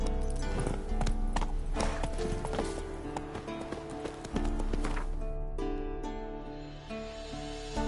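Roach the horse galloping in The Witcher 3, rapid hoofbeats clopping in a fast rhythm with a whinny, loud and close, then slowing toward the end.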